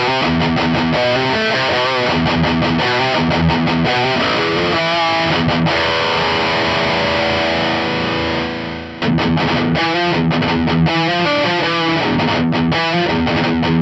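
Heavily distorted electric guitar chords through a Laney Ironheart tube amp ring out loud and saturated, with a brief sustained passage mid-way before the choppy rhythmic strumming resumes.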